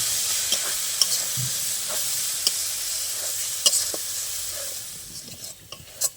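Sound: stirring mustard paste frying in oil for fish curry

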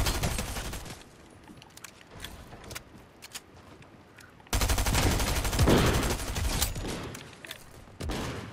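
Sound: gunshots in the Fortnite video game

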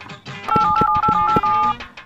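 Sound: telephone number being dialed, keypad tones

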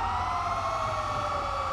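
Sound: emergency vehicle sirens in a fire department video game

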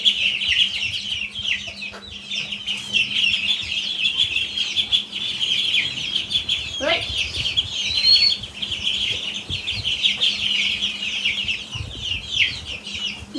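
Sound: chicks and ducklings chirping

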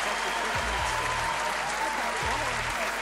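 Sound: audience applause at stand-up comedy show

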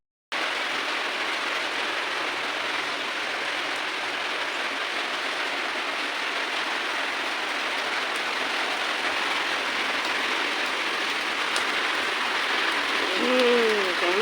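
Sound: rain falling

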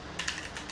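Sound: typing on a mechanical computer keyboard

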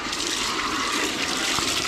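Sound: water running from a water outlet

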